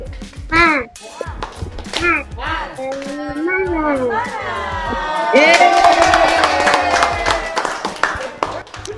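An audience at a children's storytelling competition final does the tepuk semangat clapping chant. Voices chant together, then a burst of rhythmic, crisp hand claps mixes with crowd voices and cheering.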